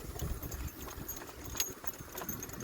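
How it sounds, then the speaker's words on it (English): A barefoot, unshod donkey pulling a buggy on pavement makes a steady, soft clip-clop of hooves at close range, with light jangling of harness or tack mixed in. "donkeys just don't slam the ground with their hooves"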